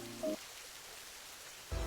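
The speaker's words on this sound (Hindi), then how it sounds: "अचानक ही बारिश शुरू हो गई" Cartoon rain falling on a house, a steady, faint hiss of drops that runs on alone between short louder bursts at the start and end.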